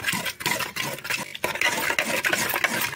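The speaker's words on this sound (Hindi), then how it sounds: "अब हम आटा को मिला देते हैं।" Flour being stirred into cooking mustard and bathua greens in a pot, heard as close, continuous scraping and sloshing strokes of a spoon, with no talk.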